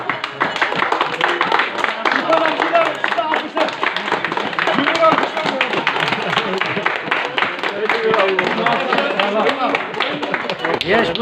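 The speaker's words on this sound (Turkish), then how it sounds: "Gelin ve damat beye alkışlar alkışlar" Wedding guests at a Gümüşhane wedding in front of the groom's house applaud the bride and groom, a loud, dense, continuous clapping that fills the whole stretch while voices carry over and through it.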